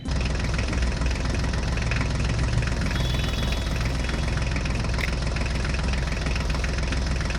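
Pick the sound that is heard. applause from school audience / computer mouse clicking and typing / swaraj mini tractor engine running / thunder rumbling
swaraj mini tractor engine running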